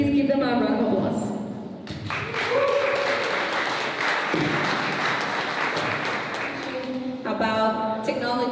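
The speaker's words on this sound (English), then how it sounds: "So please give them a round of applause." An audience at a panel discussion on AI talent in Baja applauds the panelists, steady clapping filling the room between stretches of a voice over the sound system.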